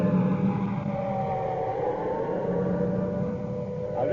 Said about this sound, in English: I'll just let you listen to the traffic and the sound of the siren for a moment